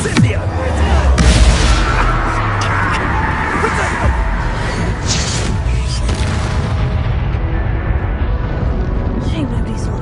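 A fire spell cast in the Hogwarts Legacy video game bursts out with booming, crackling blasts over dense, loud game effects and music, while a voice shouts over the top.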